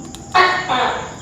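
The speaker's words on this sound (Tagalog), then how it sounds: "Tuko pala yun." A tokay gecko calls inside a quiet house, two loud, raspy croaking notes close by in quick succession, the second slightly lower and longer.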